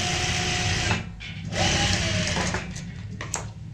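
A sewing machine stitches closed the gap in a handmade potli bag, its steady mechanical whir running continuously with slight dips in speed, close and fairly loud.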